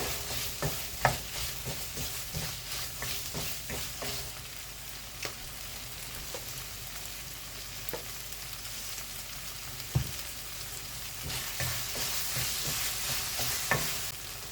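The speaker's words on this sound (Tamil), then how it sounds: "தக்காளியும் போட்டுட்டேன் தக்காளியும் நல்லா வதங்கினப்புறம் நம்ம மசாலா சேர்த்துக்கலாம்" Tomatoes sautéing in oil for an eggplant tamarind curry, a steady sizzle broken by scattered spoon clicks and scrapes against the pan, moderately close, with no talk.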